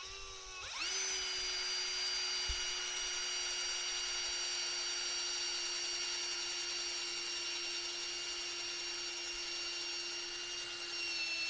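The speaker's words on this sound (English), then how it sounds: "We'll drill a couple of holes in the chassis" A power drill bores holes into the steel chassis of a self-build campervan, a steady high-pitched whine that spins up and holds at a constant pitch for over ten seconds, close and alone.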